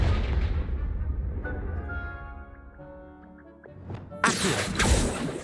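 A Confringo fire-blast spell cast in Hogwarts Legacy, with a tonal magical build-up and then a loud, sudden burst near the end, like an explosive impact.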